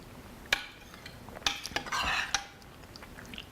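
Eggplant arrabbiata sauce with lemon juice stirred in a pot, a few sharp clinks of a utensil on the rim and a short wet scraping swirl, close and quiet with no talk.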